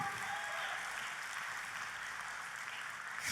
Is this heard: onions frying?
no